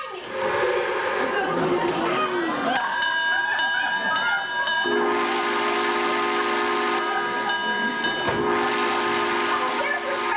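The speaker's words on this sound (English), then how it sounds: "There's your train." Steam train whistle blowing loudly in repeated sustained blasts with hiss, a train arriving in a stage production of The Music Man in Towsontown, with voices over the sound.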